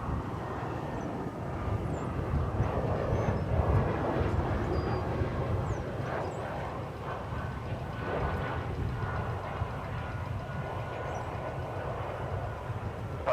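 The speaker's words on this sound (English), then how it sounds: "It's American Airlines flight 2060 arriving from Sioux Falls after an hour and 39 minutes in the sky." An American Airlines airliner comes in to land at DFW Airport, a continuous rushing jet roar at moderate distance that swells slightly in the first few seconds and then holds, with no one talking.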